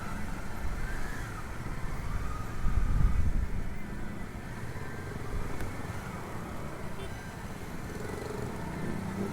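Stop-and-go rush-hour traffic jam on a Jakarta road near Tendean and Kebayoran, with a steady low rumble of car and motorbike engines and a brief swell of a passing vehicle, while someone talks nearby.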